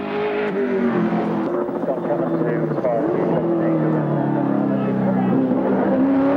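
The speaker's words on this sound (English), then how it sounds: "working the V8 Commodore hard" Peter Brock's V8 Commodore race car engine works hard on a mountain circuit, its revs rising and falling in a loud, continuous snarl with gear changes, under steady race commentary.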